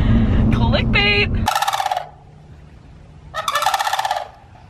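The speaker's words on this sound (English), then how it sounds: "Those are called sandhill cranes" Sandhill cranes give loud, rattling, trumpeting calls in two bursts close by, following a stretch of rumbling noise at the start.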